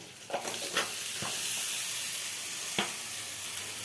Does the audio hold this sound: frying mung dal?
yes